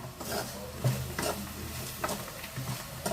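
Okra and peanut fry being stirred in a pan, a spoon scraping and turning the pieces with soft repeated clatters and a light sizzle underneath, close and fairly quiet, no talking.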